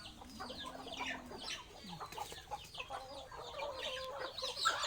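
Backyard village chickens cluck and chatter in overlapping, uneven bursts at moderate distance, with several birds calling at once.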